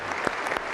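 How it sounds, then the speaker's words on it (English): An audience gives a team a brief round of applause, dense close clapping lasting under a second. "Let's give this team a round of applause."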